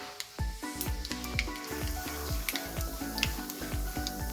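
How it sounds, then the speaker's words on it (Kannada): Cashews frying in hot oil for capsicum chitranna, a steady close sizzle with rapid crackling pops and scattered sharp spits, no voices over it. "ಗೋಡಂಬಿನೂ ಸಹ ಗೋಲ್ಡನ್ ಬ್ರೌನ್ ಬರಬೇಕು ಹಲೆಯವರು ಚೆನ್ನಾಗಿ ಫ್ರೈ ಮಾಡ್ಕೋಬೇಕಾಗತ್ತೆ"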